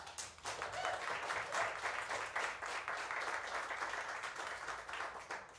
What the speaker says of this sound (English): I appreciate your applause so much